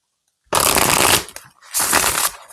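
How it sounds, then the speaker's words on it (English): Two decks of playing cards are riffle-shuffled in two quick, loud, close bursts of fluttering card noise, with a brief pause between them. "I've got 2 decks shuffled."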